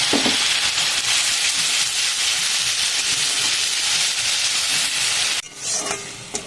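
Onion with ginger, garlic and chili paste fries in a pan with a loud, steady, close hiss and sizzle that drops off abruptly near the end.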